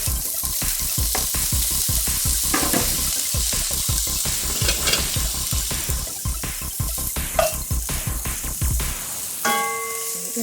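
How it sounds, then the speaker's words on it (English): Andouille sausage browning in olive oil in a pan, a steady loud sizzle and crackle throughout with rhythmic bursts of spatter, close up and alone, ending with a brief metallic ring. "we are going to brown our andouille"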